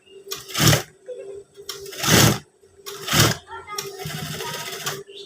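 Sewing machine stitching a trouser waistband, heard as three loud bursts of rapid mechanical whirring with short pauses between them and quieter fabric handling at the end.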